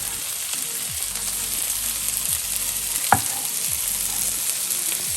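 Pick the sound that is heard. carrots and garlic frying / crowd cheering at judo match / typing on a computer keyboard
carrots and garlic frying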